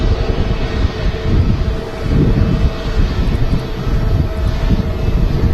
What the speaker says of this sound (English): Now rolling is the Virgin Atlantic A330 GV Gem off to New York.